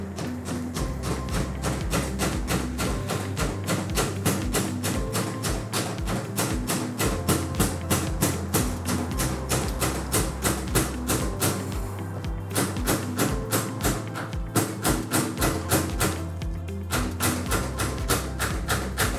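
A hammer strikes a dowel driven down through stacked wedding cake boards on a turntable expander, giving steady, rapid, evenly spaced taps and thuds that continue throughout at close range.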